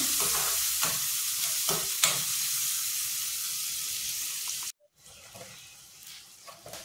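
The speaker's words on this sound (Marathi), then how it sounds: "टॅमॅटो सुद्धा आपल्याला मऊ होईपर्यंत परतायचा आहे" Tomatoes with turmeric sautéing in a pan, producing a continuous bright sizzle with occasional stirring scrapes, close by; the sizzle cuts out briefly and then resumes more quietly.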